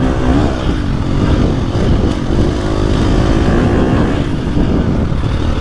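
A 2025 KTM 350XCF dirt bike engine grunts steadily on a trail ride, a loud continuous low-to-mid drone heard up close from the rider's position.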